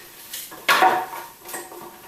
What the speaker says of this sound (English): Scraping as much of the nuts out as you can get.